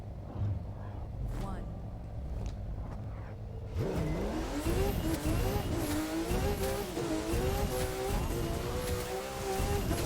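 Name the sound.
Porsche race car engine in The Crew 2, video game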